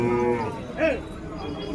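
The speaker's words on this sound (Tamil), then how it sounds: "எருதுங்க, உழவு மாடுங்க." At a cattle market in Vaniyambadi, draught bullocks and plough cattle stand around as one cow lets out a single short moo close by, heard over a steady background of crowd murmur and a voice talking.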